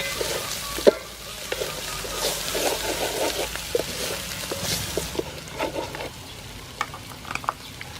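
Pounded spices sizzle and crackle in hot soybean oil as a mussel curry is started, stirred steadily with occasional sharp clinks of a utensil against the pan.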